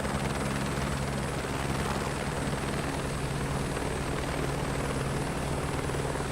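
Steady, continuous helicopter rotor and engine drone from a 2024 flight simulator game, loud and unchanging throughout with no voices.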